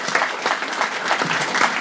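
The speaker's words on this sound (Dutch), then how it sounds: "Even een applaus voor" Studio audience applause, dense steady clapping from a crowd filling the whole moment without speech.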